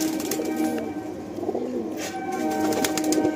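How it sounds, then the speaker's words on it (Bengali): Many pigeons in a loft keep up a dense, continuous murmur of low cooing close by, with a few brief rustles and wing flutters and no talk. "তো আপনারা বুঝতেই পাচ্ছেন অনেক পায়রা এখানে রয়েছে।"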